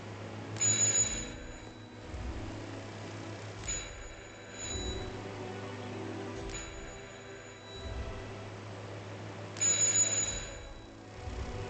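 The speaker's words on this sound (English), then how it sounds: "Just ring the doorbell." A doorbell in the video game Hitman 2 rings several times at intervals, bright repeated chimes over a low steady hum with no talking.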